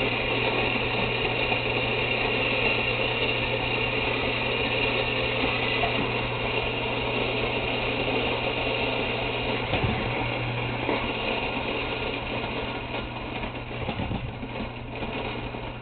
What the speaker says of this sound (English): And I'm grinding them in my Rocky, which I modded a little bit